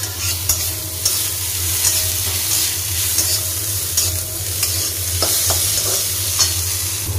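Ginger garlic paste being stirred in a pan for a Bengali chorchori, with a steady close scrape and soft sizzle running throughout, plus a few sharper clicks of the spoon.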